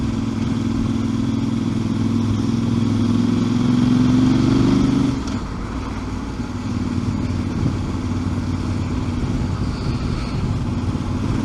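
Inside-helmet engine note of a Voge 800 Rally motorcycle pulling in fourth gear from about 20 mph, a rising drone that climbs and then drops off abruptly as the throttle closes, with steady wind and road noise continuing afterward.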